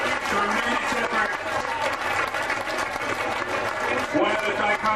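Hundreds of road race finishers applaud at an outdoor awards ceremony, a loud, continuous wash of clapping from a large crowd that holds steady throughout, with scattered voices underneath.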